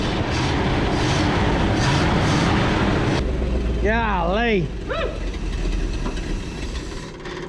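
An abandoned 1959 Chevrolet truck fitted with a Buick Nailhead engine runs after a long sit, first with a loud rough roar, then settling into a lower steady rumble while people talk over it.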